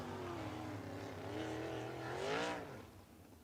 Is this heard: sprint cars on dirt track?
yes